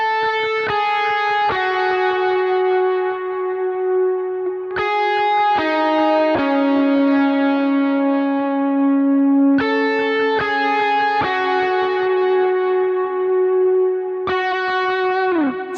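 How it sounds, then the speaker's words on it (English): Electric guitar playing a simple melodic line of sustained single notes, plucked plainly one after another with effects coloring, clean and upfront with no voices over it. "if I just want to play this line without any embellishments or without any articulation, it will sound like this"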